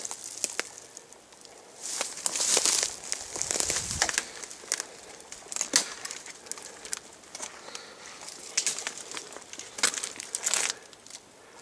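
Footsteps crunch and crackle through very dry fallen leaves, a fairly close, uneven series of brittle rustling crunches with no one talking.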